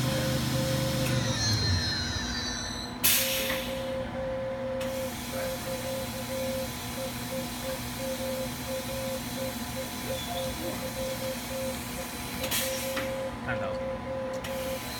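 A 2006 Fadal VMC 6030HT CNC machining center spindle runs at high RPM after a gear change, giving a steady loud whine and hiss with a faint repeating tick and brief bursts of air at start and near the end.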